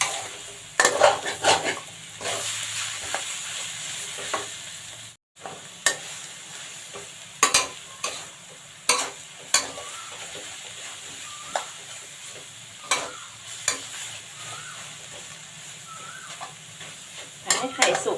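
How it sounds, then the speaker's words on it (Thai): Preserved radish stir-fried with egg and sugar in a pan. A spatula scrapes and clanks against the metal over a low sizzle, with sharp irregular knocks scattered throughout. "น้ำตาลทราย ผัดให้เข้ากันเลยค่ะ"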